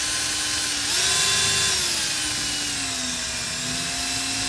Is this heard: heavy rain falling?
no